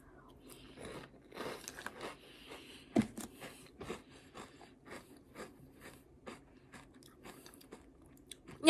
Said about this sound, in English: It's got a really good crunch to it.